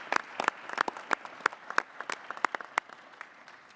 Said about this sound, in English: all of us give you a round of applause for your contribution